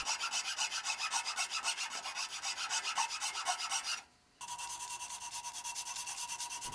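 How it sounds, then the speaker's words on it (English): A narrow file rasps steadily against the tip of a wooden finial turning on a lathe, a fast, even rhythmic scraping that pauses briefly partway through and resumes, close and alone. "Towards the tip, I switch to a narrower file."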